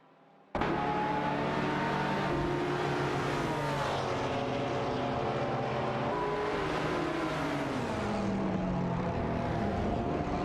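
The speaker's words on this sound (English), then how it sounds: "Racing car dashing away." A racing car engine cuts in abruptly and holds a loud, sustained drone whose pitch slides downward as it draws away, with no voices present.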